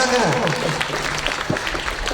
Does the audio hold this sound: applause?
yes